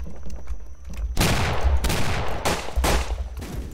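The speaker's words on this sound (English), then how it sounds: "Why are people shooting at me?" Gunfire in a Wild West shooter game, a quiet stretch followed by several loud, close bursts of rapid shots in rough succession, with no talk over them.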